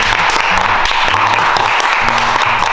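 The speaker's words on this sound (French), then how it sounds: "on applaudit tous s'il vous plaît" A crowd at a live French comedy show applauds steadily, a dense, continuous wash of clapping with some voices mixed in, held at an even level throughout.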